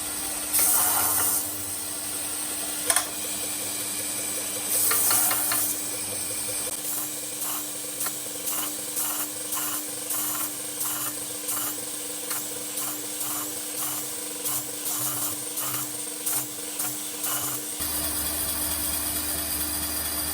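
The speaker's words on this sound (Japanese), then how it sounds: "240番で60番の傷を消します。" Damascus steel knife blade being sanded by hand with 240-grit paper, a run of steady rhythmic scraping strokes, close and fairly quiet over a constant background hum.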